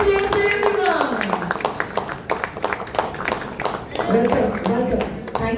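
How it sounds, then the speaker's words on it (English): An audience at a corporate electronics company welcome gives sustained applause, a dense patter of clapping hands running throughout, with a person talking over it at the start and again near the end. "Can we have a round of applause,"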